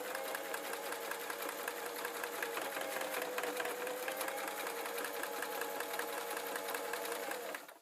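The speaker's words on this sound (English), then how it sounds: "once I've got them lined up, I'm going to sew straight across" Sewing machine stitching a seam across an oilskin PVC tote bag, a fast steady mechanical whir running continuously and close, then stopping at the end.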